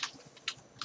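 Keystrokes on a computer keyboard, three distinct clicks spaced evenly across a short moment, close and fairly quiet, with no voice over them.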